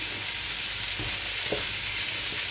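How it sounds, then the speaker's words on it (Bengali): A fish curry with coriander leaves sizzles steadily in a frying pan, a dense close hiss with a couple of light utensil taps as it is stirred. "ধনিয়া পাতা দিয়ে লাড়া দিয়ে দিলাম"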